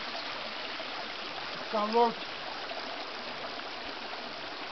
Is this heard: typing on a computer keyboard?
no